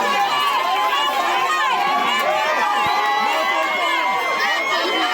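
A dense crowd cheers and shouts in a chaotic mass of overlapping voices as a tearful MP is escorted through by police, loud and continuous throughout, with many individual yells rising above the din.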